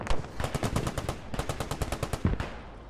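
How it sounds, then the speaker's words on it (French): Rapid bursts of machine-gun fire in the Post Scriptum war game, two long rattling volleys of evenly spaced shots separated by a brief pause, close and fairly loud with no talk. "Des tirs."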